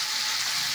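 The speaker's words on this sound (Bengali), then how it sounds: "এখানে আদা রসুন ভেজে নিলাম" Ginger and garlic fry in a pan with a steady, close, continuous sizzle and hiss that holds evenly for under a second, with no voices.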